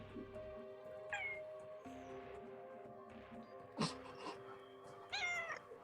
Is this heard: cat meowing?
yes